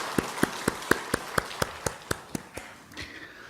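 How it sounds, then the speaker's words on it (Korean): A church congregation claps for its elders in unison, about a dozen sharp, evenly timed claps in a steady rhythm that fade out at the end. "우리 다시 한번 우리 장로님들 박수 한번 드리겠습니다"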